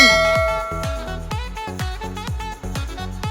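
A bright bell-like notification chime rings repeatedly in a quick, steady rhythm with long ringing overtones, loud and alone without any talk.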